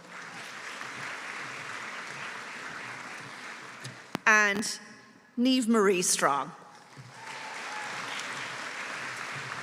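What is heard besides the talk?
applause at graduation ceremony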